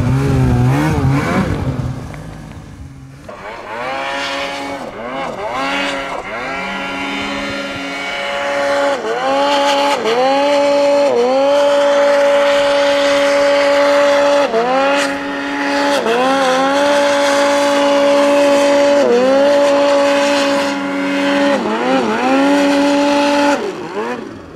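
A snowmobile driven hard rallies close by, its engine screaming through repeated rising and falling revs as the throttle is blipped and held, loud and continuous with no talk.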